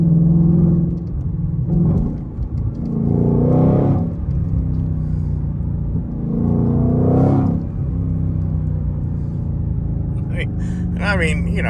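Several quick engine revs from a Mustang GT500 swell and drop over a rumbling idle, close by, with a person speaking briefly near the end.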